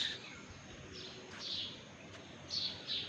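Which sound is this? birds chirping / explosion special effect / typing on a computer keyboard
birds chirping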